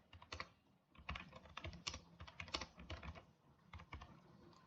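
Rapid typing on a computer keyboard as a book title is entered into a search field, with dense irregular clicks and short bursts of keystrokes continuing close and clear throughout, no voices.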